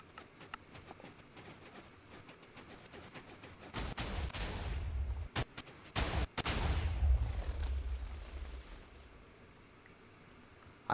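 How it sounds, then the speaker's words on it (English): Cannon blasts in a sand-cannon build in a block-building game: quiet ticking, then a heavy rumbling explosion burst around the middle with sharp cracks, fading into a low roar. "Or something is exploding on the stair that's not supposed to."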